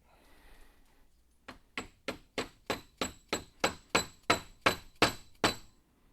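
Dead blow hammer striking while installing a U-joint in a garage, about a dozen sharp, evenly spaced hits, close and clear with nothing else over them.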